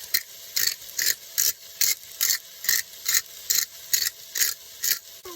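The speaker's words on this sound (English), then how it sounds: "Some salt. Just grate it on there. Some pepper." Pepper ground over a vanlife camp-cooking pan of peanut butter rice and vegetables, a crisp rasping crunch repeated about a dozen times in a steady rhythm, close and alone.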